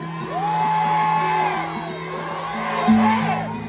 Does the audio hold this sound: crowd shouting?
yes